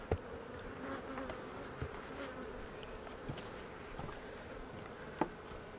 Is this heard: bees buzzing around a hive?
yes